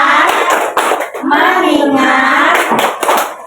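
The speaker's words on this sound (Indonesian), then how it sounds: "Coba tepuk fokus." Fourth-grade children in a religious education class clap a rhythmic focus clap, sharp patterned claps broken up by chanted group voices, close and loud.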